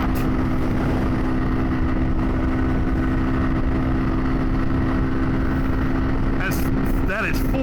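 Kawasaki Z125 Pro motorcycle held at full throttle, a steady loud engine drone running without a break, with a brief passing rasp near the end.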